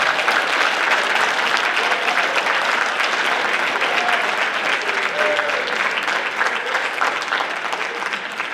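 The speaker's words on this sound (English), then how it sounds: "Let's clap it up for the Greenways." A crowd claps for the state champion Spencer Greenways players at a high school basketball awards ceremony, sustained loud applause with a few faint voices and whoops mixed into the steady clatter of hands.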